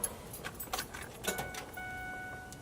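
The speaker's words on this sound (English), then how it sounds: "stick your keys in" Truck keys jangling and clinking as they go into the ignition of a 1999-2007 Ford Super Duty, several light metallic rattles, close and fairly faint, followed by a steady electronic tone.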